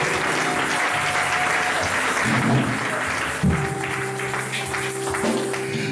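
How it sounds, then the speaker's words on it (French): A church congregation claps loudly and continuously for several seconds, with tonal music sustained underneath the applause. "Acclamons très fort le Seigneur."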